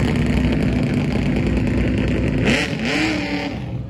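A 1972 Chevy Nova or Ventura pulls off with a loud, close engine rev that climbs in pitch before settling into a throaty rumble, with no speech.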